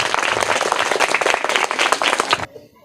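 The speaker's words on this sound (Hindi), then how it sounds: "तो इनके लिए जोरदार तालियां हो जाए।" An audience applauds a school prize winner, dense loud clapping from many hands for about two and a half seconds before it cuts off abruptly into near silence.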